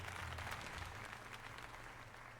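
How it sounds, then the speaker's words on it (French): Crowd applause in the video game Pokémon Legends Z-A, a dense steady clapping that fades slightly over a couple of seconds, heard alone. "Allons, tout le monde, applaudissons Doppel comme il se doit."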